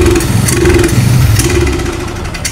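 A Honda Supra X 125 motorcycle engine with a carburetor fault runs loudly up close, its throttle blipped so the note rises and dips unevenly in short bogging surges over a rough idle.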